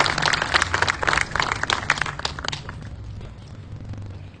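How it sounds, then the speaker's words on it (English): Audience applause at an outdoor Mahatma Gandhi statue unveiling ceremony in Clarksdale, a dense patter of many hands clapping that gradually thins and fades over a few seconds, with a low steady hum underneath. "let's give each one of you all a big round of applause"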